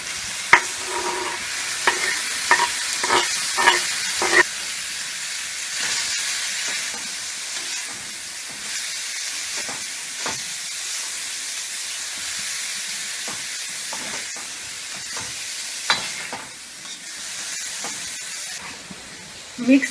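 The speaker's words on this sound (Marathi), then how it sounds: "किसून घेतलेला मुळा घालायचा।" Grated radish stirred into chilli thecha frying in hot oil sizzles and hisses steadily, with a run of spoon scrapes and clinks against the pan near the start and a few more later.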